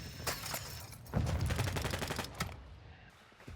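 Explosive rounds from a sniper rifle fire in a shooting video game, loud gunshot bursts with a heavy low boom near the middle and sharp cracks around it, spread across a few seconds.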